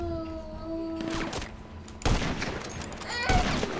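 Sniper rifle shots in GTA 5 Online, a video game: two heavy, sharp reports about a second apart, each with a booming tail, over faint background game music.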